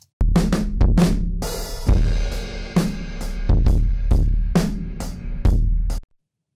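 A drum kit is sent through a parallel dirt bus for heavy distortion, giving crunchy, saturated kick and snare hits and a washy, fuzzed cymbal crash in a loud groove that stops abruptly.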